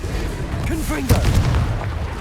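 Confringo blasting spell explosion in Hogwarts Legacy, a booming blast with rumbling thuds and crackle following a shouted voice, loud and close amid ongoing combat noise.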